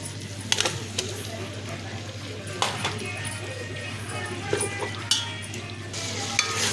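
Chicken for biryani frying in oil while being stirred, a continuous sizzle under a low steady hum with occasional sharp metallic clinks of the spoon against the pot, close by.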